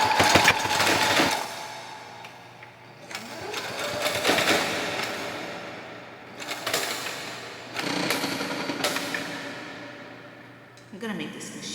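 A sewing machine stitching fabric runs in loud, steady mechanical bursts of several seconds each, with brief pauses between runs, close up.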